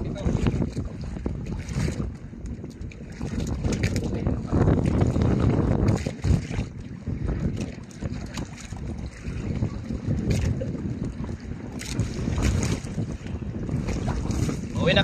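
Strong wind buffets the microphone as sea waves slap against a small fishing boat, a loud, gusty roar that runs throughout with faint voices.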